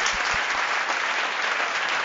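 Thick, steady audience applause at a Tamil film-music stage programme, an even wash of many hands clapping throughout.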